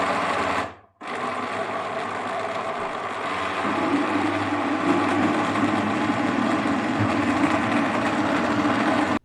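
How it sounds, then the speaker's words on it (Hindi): An electric blender grinding garlic and ginger with water and cooking oil in a jug: a brief stop, then a steady loud whirring motor hum that deepens as the blend thickens, with no talking. "इसको अच्छे से अब ब्लेंड कर लेंगे।"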